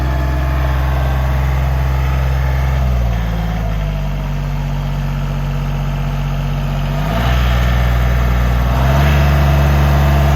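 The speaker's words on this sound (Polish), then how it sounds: "Ten traktor hydrostatyczny jedziemy na jedynce w tej chwili." Yanmar YT235 hydrostatic tractor driving in first gear pulling a tiller-seeder, a loud, steady diesel engine drone with low rumble whose pitch steps down and back up a few times, close by with no talk.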